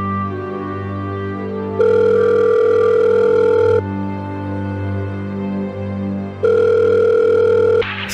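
A steady telephone line tone comes through twice during a phone call in a 2022 Egyptian stage play, each time holding for about two seconds over a constant low background hum.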